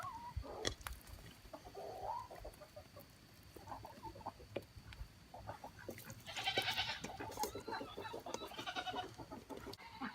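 Goats on a farm among chickens, scattered bleats and clucks over a noisy outdoor background, fairly distant and faint, with a cluster of higher calls near the middle.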